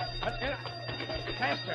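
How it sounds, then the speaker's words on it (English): An alarm bell rings continuously in an old-time radio drama while urgent voices talk over it. "Hey, that's the alarm."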